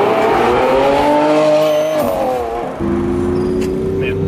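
A Lamborghini Aventador SV revs loudly with a rising engine note that dips and then climbs again as it accelerates through a gear change, close and alone.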